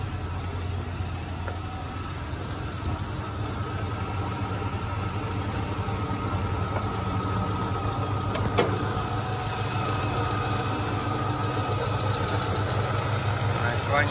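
The engine of a 2009 seven-seat automatic car idles smoothly and quietly in a steady, even hum with no breaks.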